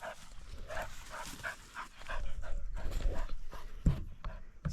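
A persistent dog at a bass lake whines and yips close by in uneven bursts, with panting and a sharp thump near the end over outdoor background noise.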